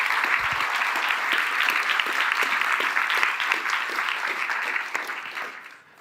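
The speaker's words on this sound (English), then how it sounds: "please give a warm applause once more to Dr." Audience at a discussion evening applauds warmly, a dense, steady clapping from a crowd that holds for several seconds before tapering off at the end.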